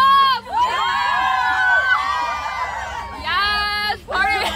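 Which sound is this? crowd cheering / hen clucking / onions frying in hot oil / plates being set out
crowd cheering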